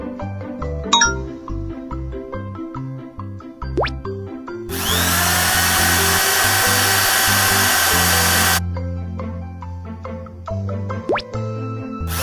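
A cartoon excavator's drill for foundation piling whirs loudly and steadily for about four seconds, set between stretches of bouncy background music and chiming tones.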